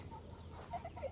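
Chickens, baby chicks among them, cluck softly in a few short, faint calls over quiet outdoor background.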